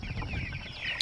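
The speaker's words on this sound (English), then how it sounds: "we put in our next batch of Cornish cross chickens in here" Cornish cross chickens in a pen give short soft clucks and chirps, a few overlapping calls close by over low rustling background.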